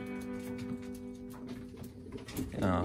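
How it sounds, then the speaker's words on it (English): Racing pigeons, a 2021 young-bird team back from 60-mile training, coo in steady low murmurs, with scattered flutters and a louder burst near the end, close by and without talk. "2021 racing pigeons."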